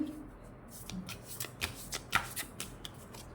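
Tarot cards being shuffled by hand, a series of soft crisp riffling flicks and taps spaced irregularly, close and quiet with no talking.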